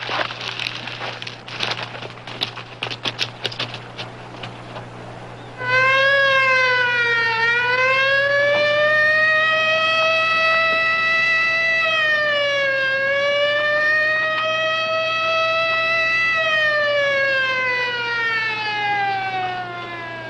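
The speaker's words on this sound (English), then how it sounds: "He wants us to hit the siren." A police car siren from the Highway Patrol TV series starts after several seconds of rough background noise, then wails loudly and steadily, rising and falling in long sweeps for about fifteen seconds.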